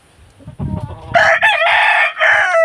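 A gamecock crows loudly and close by, one long drawn-out call following a few softer clucks.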